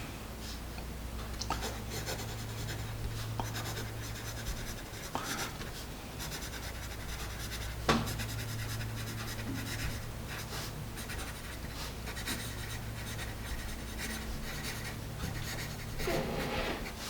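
An HB number 2 bowling pencil writes on paper, giving a continuous soft scratching and rubbing with occasional light taps, close and fairly steady throughout.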